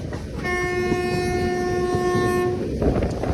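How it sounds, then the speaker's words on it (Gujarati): A train on the way to Goa approaches a tunnel, sounding one long sustained horn blast over the loud steady rumble of the carriages, recorded from aboard with no talking. "હવે ટર્નલ આવશે, ટર્નલની અંદર જાહે ટ્રેન ભાઈ"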